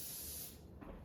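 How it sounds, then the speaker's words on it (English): Cooking spray hisses onto a pan on a stovetop while making healthy breakfast cups, one steady close spray that fades out midway, with a faint clatter near the end. "I'm gonna go ahead and spray the pan."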